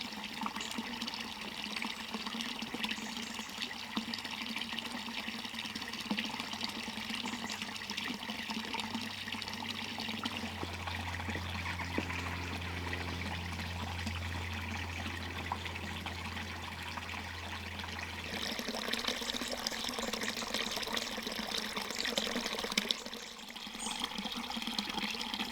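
Water running in an old well along a Cotswold walk, a soft steady trickling and gurgling flow with a faint low hum partway through, quiet and continuous with no talking.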